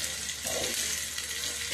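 Chicken frying in a pan, giving a dense, bright hiss that holds steady the whole time, close and loud, with no talk.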